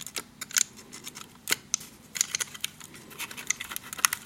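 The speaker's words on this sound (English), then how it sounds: "So carefully cut it out a little more." Scissors snipping a paper square for an Operation game craft, a run of sharp, close, irregular cuts with short pauses between them, and no voices.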